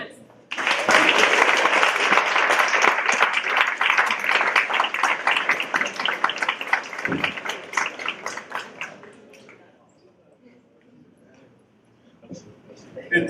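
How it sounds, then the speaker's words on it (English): Audience applause at a college student leadership awards ceremony, loud sustained clapping from a crowd that swells quickly, holds for several seconds, then fades out, with a brief voice near the end. "Please help me applaud for Jason Simmons."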